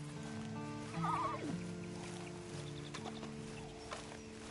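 A horse in the Red Dead Online video game gives a brief whinnying call over a steady background of game music and ambience, with soft hoof and tack sounds afterward.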